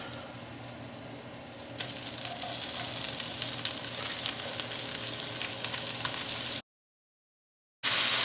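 Garlic and leeks sauté in a Dutch oven with a steady, close hiss that swells louder a couple of seconds in and keeps going, broken by a sudden gap of silence before the sizzle returns loudly.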